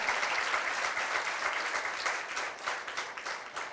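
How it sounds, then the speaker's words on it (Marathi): Guests at a 94th birthday celebration break into hearty applause, a close, sustained crowd clapping that stays even and loud across the whole moment with no talk. "म्हणून एकदा जोरदार टाळ्या."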